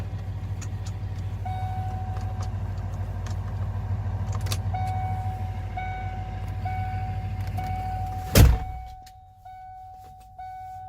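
A cold manual truck with stage 1 injectors and oversized nozzles runs with a heavy, steady low rumble under a repeating beeping chime and light jangling. A sharp knock near the end is followed by the engine noise dropping much quieter.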